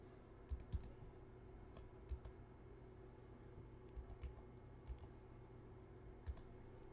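Sparse, soft keystrokes on a computer keyboard as an 8-digit PIN is entered during an LG 2020 OLED TV calibration, about eight light clicks spread over a steady low hum.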